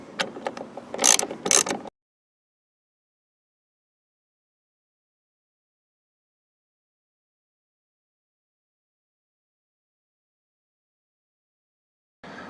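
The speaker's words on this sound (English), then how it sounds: "All right, let's get to wrenching." A ratchet wrench clicks briefly while loosening the 13mm and 10mm nuts on a 2013 Ford F-150 door check, a quick two-second burst of close ratcheting followed by long silence.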